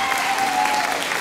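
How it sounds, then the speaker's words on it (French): Steady applause from the audience at the Miss Moselle 2013 pageant as contestant number 14 is presented, a dense wash of clapping throughout with a faint tone held underneath. "applaudissez-la"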